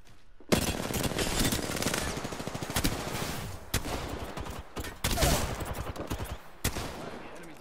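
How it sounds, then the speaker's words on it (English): Sustained bursts of automatic gunfire from the video game Apex Legends, rapid loud shots and volleys filling the whole stretch with brief gaps, without talk. "Hey, stop shooting at me"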